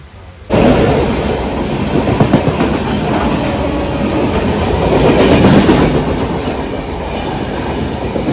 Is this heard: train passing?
yes